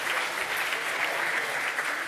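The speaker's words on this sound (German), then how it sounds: "Applaus für unsere Kontrahenten hier im Brüderduell." A studio audience at a German sports comedy show applauds, producing dense, continuous clapping that stays loud and even throughout.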